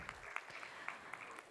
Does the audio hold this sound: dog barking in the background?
no